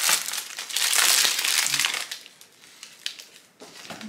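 Cardboard packaging of a boxed Louis Vuitton perfume is pulled open by hand, with crinkling, crushing paper-and-card rustles, loudest early on and then trailing into softer, scattered handling noises.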